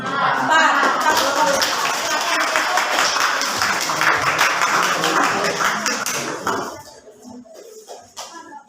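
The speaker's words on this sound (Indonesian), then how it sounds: "Tepuk tangan untuk kelompok 4." Classroom applause for a student group after their linear programming presentation: a burst of many hands clapping for about six seconds, fairly close, then cutting off sharply, followed by a few stray taps and quiet voices.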